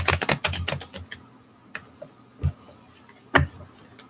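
Tarot cards being shuffled: a quick run of crisp riffling snaps, then a few separate sharp card taps spaced out over a quiet room.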